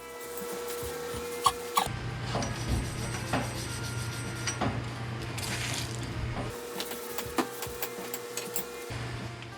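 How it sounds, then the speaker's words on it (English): A wire brush scrubs the wheel hubs of a Jeep Renegade during a brake job, making repeated close rasping strokes with short pauses. "use brake clean, a wire brush, and blue shop towels to clean the hubs"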